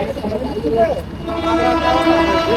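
A train rumbles past nearby with a steady mechanical roar and a drawn-out horn tone, while people talk over it.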